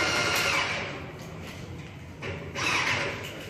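An airless paint sprayer starts up on low pressure, its motor whirring in two swelling bursts with a quieter dip between them, close and fairly loud with no talking.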